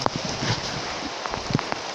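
Rain falls outdoors in a steady, even hiss with scattered soft drops spattering on a surface close by, with no voices over it.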